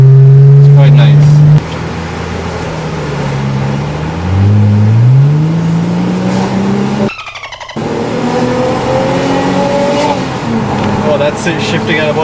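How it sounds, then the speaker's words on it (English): Mercedes-Benz CLS350 engine, about 276 horsepower, revving through the gears with audible downshifts, pitch stepping up and dropping between shifts, heard from inside the car with someone talking over it. "when you hear the downshifts in this, it's quite nice"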